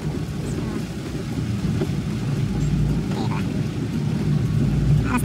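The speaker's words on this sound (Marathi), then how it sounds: "पावसाचं प्रमाण जास्त आहे." Heavy rain drums steadily over a low vehicle engine rumble on the road from Mumbai to Konkan, with a voice speaking now and then.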